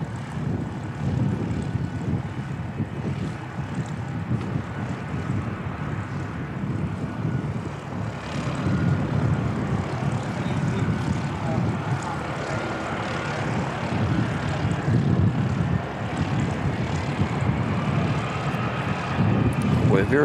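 A C-17A military transport plane turns around on the runway at Christchurch Airport, its engines roaring in a steady, powerful drone with a shifting whine, heard from a distance while spectators talk nearby.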